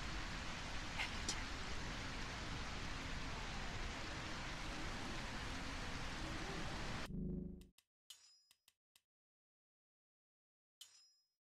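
Steady rain in the video game A Quiet Place: The Road Ahead, a dense loud hiss for about seven seconds that cuts off abruptly, followed by a few faint scattered clicks and clinks.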